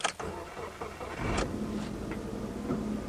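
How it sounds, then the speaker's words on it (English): A Subaru Forester with a rough idle cranks over on an ice-cold morning after sitting outside all night: a sharp click, then a steady starter whir building into the engine catching and running, heard up close with no talk. "First crank of the engine in the morning."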